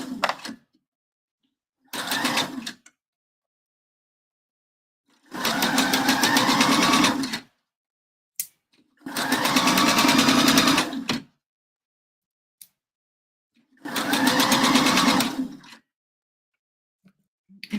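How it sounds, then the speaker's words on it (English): A home sewing machine winds its bobbin in several separate whirring runs of a few seconds each, close and fairly loud, with silent gaps and small clicks between them, and no speech. "Of course, I need to wind the bobbin."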